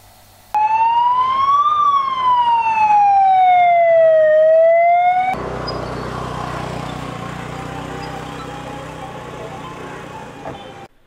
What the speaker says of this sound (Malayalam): രാവിലെ 9:30 സൈറൻ മുഴക്കി ഫയർഫോഴ്സിന്റെയും പോലീസിന്റെയും വാഹനങ്ങളും ആംബുലൻസുകളും പെരുമ്പ വള്ളുവ കോളനിയിലേക്ക് എത്തി